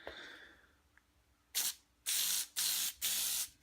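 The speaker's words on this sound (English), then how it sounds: "I like to kind of do a test spray" Several short bursts of Plasti Dip aerosol spray hiss loudly onto paper as a test, one brief puff followed by three longer sprays in quick succession, close up.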